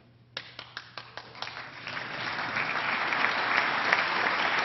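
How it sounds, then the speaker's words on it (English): A few scattered claps ring out at a State of the State address, then a crowd joins in and the applause swells into a steady, full round. "Governor Glendening with the early clap"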